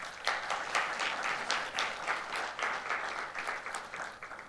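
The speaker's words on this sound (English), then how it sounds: "May I ask all of you to give him another round of applause for presenting this event" Steady audience applause fills a conference opening ceremony hall, a dense wash of many hands clapping at moderate volume throughout without pause.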